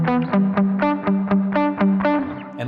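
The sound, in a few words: guitar through BOSS ME-90 with drive and reverb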